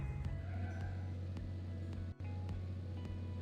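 A cartoon truck drives along in the Little Panda's Life: Truck Driver game, its steady engine hum running on continuously with a low, even drone and small rhythmic pulses, plus one brief dropout near the middle.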